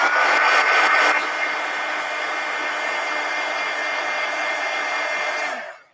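A hair dryer blows steadily at close range to dry fresh marker ink on a coloring page, louder in the first second, then a constant whirring hum that winds down and cuts off near the end.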